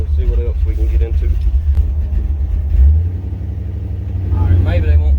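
A Chevrolet C10 truck with a 350 hp engine idles and warms up, a loud steady low rumble with slight surges, while people talk over it.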